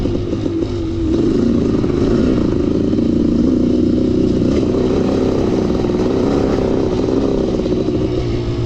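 A Kawasaki KX500 two-stroke dirt bike engine running loud and close, a steady throbbing drone that rises slightly and holds with little variation, no voices over it.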